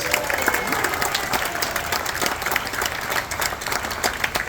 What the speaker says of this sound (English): Let's hear a massive round of applause.